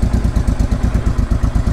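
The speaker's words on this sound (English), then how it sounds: "So she's ticking over nicely there on the choke." A used motorbike engine idles on the choke with a steady, fast, even thumping beat, loud and close, with no voices.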